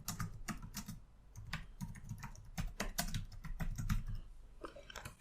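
Fingers type on a computer keyboard, a quiet, irregular patter of close key clicks in quick bursts, with no voices.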